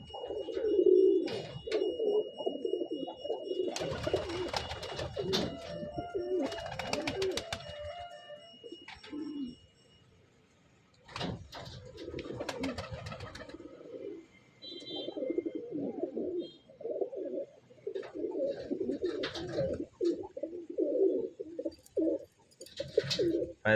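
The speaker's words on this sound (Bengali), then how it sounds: "দু একটা মালবাহী পায়রা আছে" Pigeons cooing in a home loft that includes Andhra, Madras and Malbai breeds, with repeated soft, throaty coos close by, broken by wing flutters and brief quiet gaps, and no talking.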